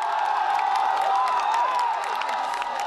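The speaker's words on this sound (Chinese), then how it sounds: "抗议学生发出胜利欢呼" Protesting students at the gates of Taiwan's Legislative Yuan raise a victory cheer, a dense crowd roar of voices and whoops that stays loud and steady throughout, with no single voice standing out.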